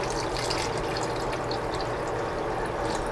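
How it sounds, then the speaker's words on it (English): Water poured into a pot of tomato-based bachelor stew, a steady continuous splashing fill of about a cup that runs evenly from start to finish, close and fairly loud with no talking. "I'm going to add just a little bit of water."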